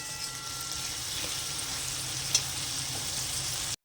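Soaked chickpeas fry with spice paste in a pan for a Bengali Malabar spinach (pui shaak) dish, giving a steady, fairly quiet sizzle with faint crackles and a single brief clink of a utensil.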